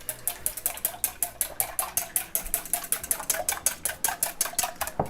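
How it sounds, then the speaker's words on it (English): A whisk beating a carbonara egg and black pepper mixture in a bowl, rapid rhythmic metallic clicks against the sides, steady and close. "I'm gonna grab the whisk, and I'm going to whisk this up"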